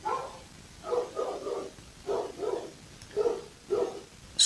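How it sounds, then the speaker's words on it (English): Several dogs bark in short paired bursts at a moderate distance, about four rounds of barking spread evenly across a quiet indoor background with no talking. "Sorry about the dogs."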